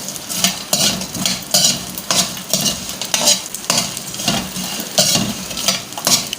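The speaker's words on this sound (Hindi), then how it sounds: "देखिए ट्रांसपेरेंट हुए तक इसको फ्राई करना हमने" Edible gum (gond) frying in a pan and being turned over, a continuous sizzle punctuated by rhythmic scraping and clinking of a spatula against the pan, fairly close and loud.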